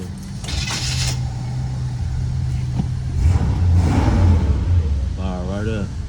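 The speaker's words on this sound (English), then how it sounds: "Y'all check out the 77 Caprice start." A 1977 Chevrolet Caprice engine cranks and fires, then idles with a steady low rumble and some revving, close up, while someone talks loosely over it.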